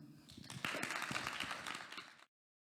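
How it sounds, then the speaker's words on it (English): Audience applause for two dancers at an International Dance Week 2023 performance, steady dense clapping from a crowd that runs for about two seconds and then cuts off abruptly into silence. "please give a round of applause to our dancers, Yim and Fer"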